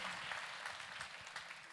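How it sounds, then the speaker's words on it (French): An audience at a health conference applauds, a steady wash of many hands clapping at low volume, heard from a distance with no speech on top. "Et vous êtes applaudis"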